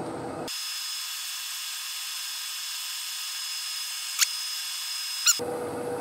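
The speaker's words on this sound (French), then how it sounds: "ponçage" Sanding a wooden box with a power tool: a steady, bright, high-pitched whirring hiss that starts abruptly and runs unbroken for about five seconds, with two brief sharper squeaks near the end, then cuts off.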